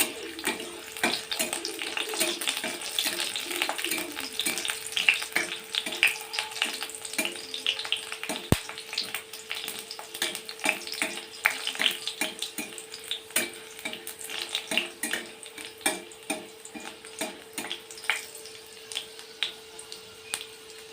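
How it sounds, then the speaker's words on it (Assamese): Garlic and green chillies fry in hot oil ahead of leafy greens, making a continuous close sizzle with irregular crackles and pops and occasional stirring scrapes throughout, with no one speaking. "শাক ভাজিবলৈ তেলত নহৰু আৰু জলকীয়া দিছোঁ"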